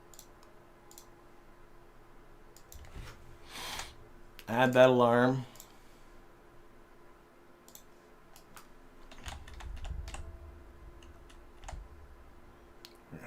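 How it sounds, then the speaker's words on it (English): Faint, sparse clicks of a computer mouse picked up by a desk microphone during a Kerbal Space Program session, scattered between stretches of quiet and a short spoken phrase. "I'm sure you guys can hear my mouse clicking over the microphone"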